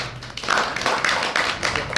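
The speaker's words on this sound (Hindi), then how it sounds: "बहुत बढ़िया, तालियां बजाएं इसके लिए" Classroom applause for a student after a good answer, a dense patter of clapping hands filling about two seconds at steady, fairly loud level.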